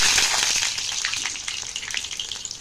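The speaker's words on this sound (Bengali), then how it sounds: "তো বেগুনটা তেলের ওপরে ভেজে নেব।" Eggplant pieces frying in hot mustard oil give a steady, close, bright sizzle with crackling spatters that eases slightly over a few seconds, with no talk.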